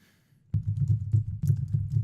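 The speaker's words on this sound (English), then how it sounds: "I apologize, you can hear the typing. It's so loud." Loud, close typing on a computer keyboard during a livestream begins after half a second of quiet, with a rapid, uneven clatter of keystrokes continuing to the end.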